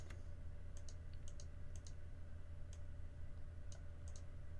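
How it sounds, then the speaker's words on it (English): Arrow keys tapped on a computer keyboard during nesting software work, giving sparse, quiet clicks in small clusters over a steady low hum, with no talking. "I can just use the arrow keys on the keyboard to do some bumping"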